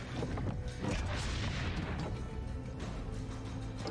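Cannon fire in Assassin's Creed Brotherhood: a loud booming blast near the start, then a sustained rumbling, crashing wash of explosion and debris noise lasting several seconds, with no talk.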